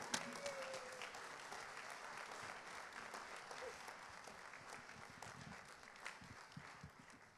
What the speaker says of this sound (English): Please give a very big round of applause to Elisabeth Diller